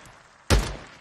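Gunfire from the video game Days Gone: a single loud, close gunshot burst rings out sharply and decays over a faint background hum.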